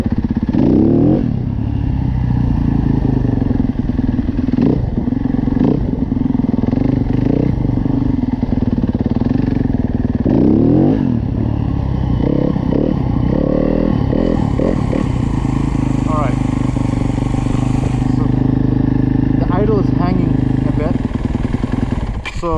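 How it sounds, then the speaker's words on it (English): A yellow 2024 Yamaha YZ250F dirt bike accelerates hard, its engine buzzing loudly and rising in pitch through repeated revs and gear changes, with a rider talking over it. "Now I'll do the same acceleration on the yellow bike"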